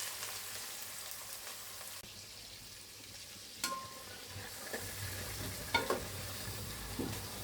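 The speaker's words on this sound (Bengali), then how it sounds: "আমার চিংড়ি মাছটা ভাজা ভাজা হয়ে গেছে" River prawns fry in a pan with a steady, even sizzle and faint clinks of stirring, and no voices.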